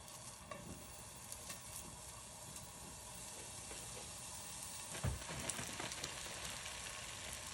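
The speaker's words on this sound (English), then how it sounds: "let's start with some salami in a pan" Salami slices frying in a pan, a soft continuous sizzle and hiss up close with a few clicks and a louder scrape partway through.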